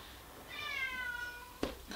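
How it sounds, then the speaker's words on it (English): An indoor house cat gives a single drawn-out meow that slides gently downward, fairly close and clear against a quiet room, followed by a brief thump or knock. "Now my cat's meowing."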